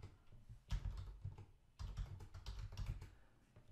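Fingers typing an email address on a computer keyboard, two quick close bursts of clicking keystrokes separated by a brief pause, quiet and without talk.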